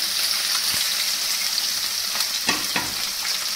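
Chopped onion hisses in hot oil in a kadai for catla fish curry, a steady, close sizzle broken by a few sharp scrapes from stirring.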